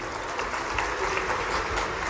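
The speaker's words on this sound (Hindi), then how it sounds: "आप ताली बजाते जाना जोरदार" A crowd at a political event in Madhya Pradesh applauds, with dense, steady clapping throughout and no clear talk.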